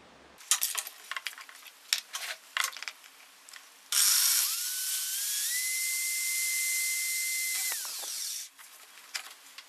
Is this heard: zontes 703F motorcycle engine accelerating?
no